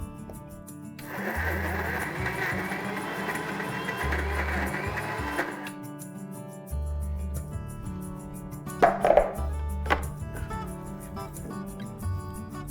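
An electric kitchen grinder whirs loudly for several seconds while grinding a mutton galouti kebab mixture with cream and ginger-garlic paste, then stops, followed by a few clattering knocks and softer handling noises.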